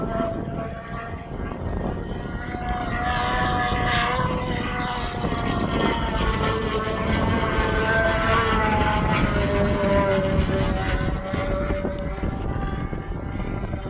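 A giant Big Stick model airplane flying overhead, its propeller engine droning loud and steady for a long stretch, the pitch slowly rising and falling as the plane passes and banks.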